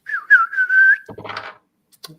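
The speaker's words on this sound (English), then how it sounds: "I whistle for my horse." A person whistles a long, wavering melodic call for a horse, then a short burst of rustling and a couple of faint clicks follow.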